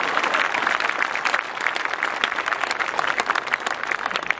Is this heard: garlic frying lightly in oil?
no